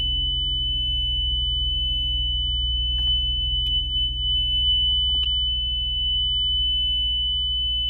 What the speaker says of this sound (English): So you could do speaker test.